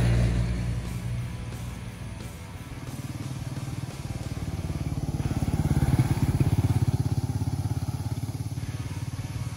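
A Royal Enfield Meteor 350 motorcycle descends a hill road near Nainital. Its single-cylinder engine gives a steady, close, low thumping drone that swells slightly midway, with no talking.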